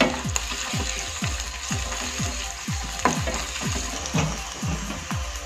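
Ingredients for Mysore bonda, including garlic, fried in a pan: a steady sizzle with repeated scraping stirs about every half second, close and moderately loud with no talk.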